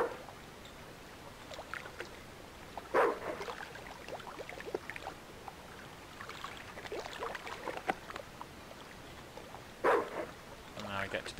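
A dog in a PlayStation demo video game gives two sharp, fairly loud barks several seconds apart, alongside scattered splashy game noises and a low background hum, with someone speaking over the scene.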